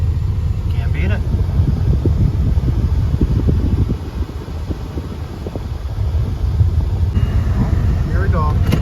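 Automatic car wash air blowers roar steadily around a Cadillac Coupe Deville, a loud broadband rush that dips briefly midway, while someone talks over the noise.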